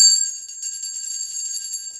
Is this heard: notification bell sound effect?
yes